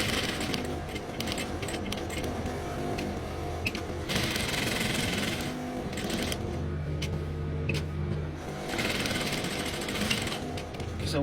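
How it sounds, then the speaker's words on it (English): A sewing machine running decorative stitching on a dress, a steady close mechanical whir with rapid needle clatter, swelling in bursts as the machine speeds up and slows, with no talk. "I'll make a decorative stitch on it all around as well"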